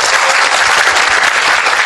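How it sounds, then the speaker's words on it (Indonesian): Audience applause at a large gathering, dense sustained clapping from many hands, loud and close throughout without pauses. "saya mohon Anda semua tepuk tangan ya"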